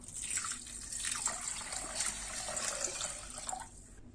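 Water pours into a pot of rice, a steady splashing hiss that runs close and fairly loud for about four seconds before stopping abruptly.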